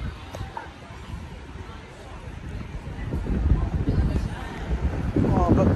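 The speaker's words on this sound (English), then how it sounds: "Oh, a bit windy" Wind gusts across the microphone on an afternoon street in Clapham, London, a rumbling low buffeting that swells louder toward the end, with someone talking over it.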